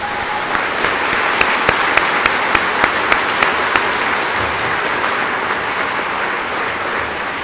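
A concert audience at Carols on Campus 2011 applauds the carol soloists with a dense, even wash of clapping that holds steady throughout, with a few sharper claps standing out early on.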